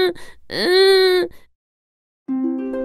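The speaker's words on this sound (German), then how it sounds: "Er begann zu weinen." Voiced crying of the fairy-tale puppet Pinocchio: a short sob, then a long drawn-out wail, a pause of silence, and another whimpering cry, loud and close.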